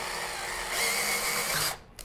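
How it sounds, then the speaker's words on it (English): Power drill whirring briefly while drilling a hole in a wooden chair arm, pitch steadying as it bites in, then stopping abruptly after about two seconds. "So I'll just hold this again and we can drill back down in."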